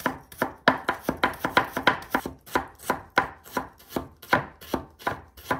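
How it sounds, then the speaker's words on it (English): A kitchen knife chops carrot into thin pieces on a cutting board, a brisk, steady run of crisp thuds, close and loud, with no talk. "Next, cut them into thin pieces."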